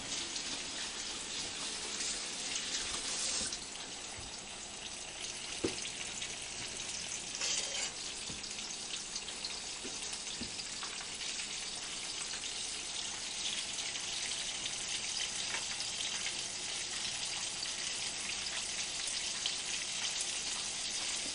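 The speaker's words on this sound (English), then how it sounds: "You only want to fry them until they're about golden brown. There you go, let them fry." Battered chicken fried steak frying in hot oil, a steady loud sizzle and bubbling crackle running continuously with occasional pops and stir noises.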